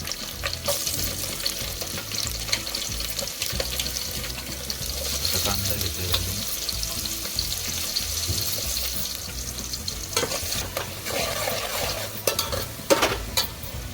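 Curry leaves, garlic and spices spitting in hot oil in a pan for a Malvani alu bhaji, with a steady close sizzle and crackle, stirring scrapes and a few sharper pops toward the end.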